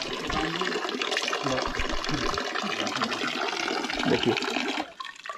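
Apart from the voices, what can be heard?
filling a small bamboo bottle with natural spring water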